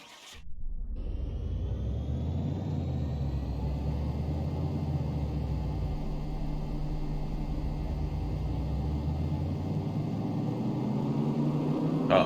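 A 1953 Cadillac Fleetwood engine in the Car Mechanic Simulator 2018 video game runs steadily on a dyno, giving a loud, continuous low rumble that holds without a break for the whole stretch.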